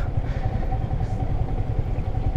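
A Yamaha R15 sports bike's engine runs with a steady low, throbbing drone while riding off-road over rough terrain, close and continuous with faint clatter.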